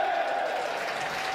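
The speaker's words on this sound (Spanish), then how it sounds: "Que sea también el aplauso del público." Brief burst of audience applause at a Superliga 2 men's volleyball match between CV Leganés and CV Almoradí, a moderate, even patter of clapping from the stands.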